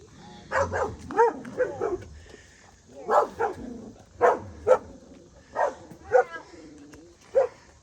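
Several dogs bark and yip excitedly on a farm, in short bursts of one to three barks repeated at irregular intervals over several seconds, close and moderately loud.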